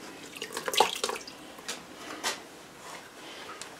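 Water is splashed onto a chrome part while rust is being scrubbed off, heard as faint, brief splashes and trickles with a couple of small knocks, close by and with no talk.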